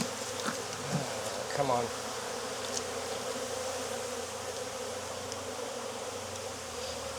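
Honey bees buzzing steadily around an open hive in Jacksonville, Florida, a dense, continuous drone close to the microphone with no pauses, while a voice speaks briefly near the start.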